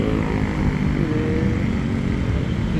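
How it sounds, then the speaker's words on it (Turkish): A loud, steady drone of motorcycle engines fills the air in heavy Bangkok traffic, a constant motorized roar with no pauses. "Trafik çok yoğun. Motor sesleri susmuyor"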